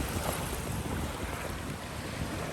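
Ocean waves washing up onto a beach by a lighthouse, a steady broadband rush of surf with wind buffeting the microphone, continuous and fairly close, no voices.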